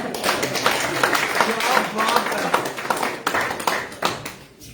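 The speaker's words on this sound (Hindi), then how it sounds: "ताली बजाओ।" Supporters clap at a BJP joining event at party headquarters in Kathua. The clapping is fairly loud and uneven, with talk and crowd voices over it before it fades toward the end.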